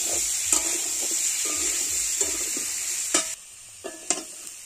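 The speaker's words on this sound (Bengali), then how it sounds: "এভাবে আমি ভালো করে কষিয়ে নেব।" Fish with elephant-foot yam and chilli powder stir-fries in a pan, a constant sizzle punctuated by repeated spatula scrapes and knocks against the pan.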